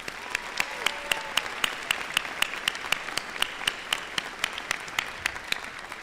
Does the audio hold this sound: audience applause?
yes